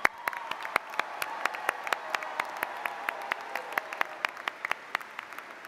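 Audience round of applause at a university freshman convocation, a steady bed of clapping with individual sharp, loud claps repeatedly standing out in a fairly regular rhythm.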